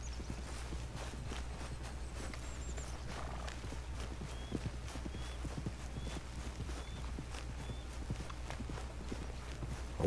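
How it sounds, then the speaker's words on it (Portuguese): Horse hooves drum steadily as a horse gallops away in the Red Dead Redemption video game. Rapid, even clip-clop beats continue over a quiet outdoor ambience with no talking. "Vou mandar esse cavalo fugir."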